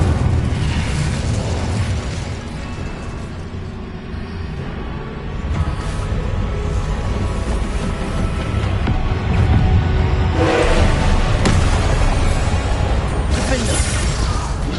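An Incendio fire spell is cast in Hogwarts Legacy, giving loud whooshing bursts and booming flares over ongoing game noise, with the strongest blasts near the end.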